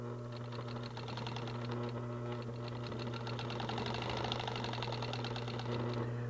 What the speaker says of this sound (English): Now you can stitch right over these needles that have pinned them together.